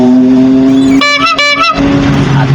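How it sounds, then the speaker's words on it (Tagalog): Heavy rush-hour traffic on the NLEX expressway near Bulacan, with a steady loud engine hum and a cluster of short, repeated horn toots around the middle. "Grabing traffic."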